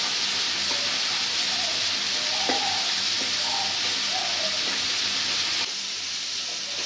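Steady sizzling of an egg frying in a hot pan, with a few soft scrapes of stirring and breaking it up near the middle; the frying continues throughout without pause.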